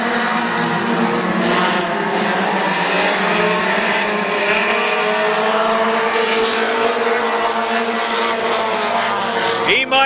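Stock cars race around the Midvale Speedway oval, their engines droning loud and steady throughout, with a brief sharper burst at the very end.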